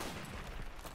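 Gunfire in Call of Duty Modern Warfare Remastered: a dense, muffled volley of shots packed into a single second, steady and fairly quiet, with no voices.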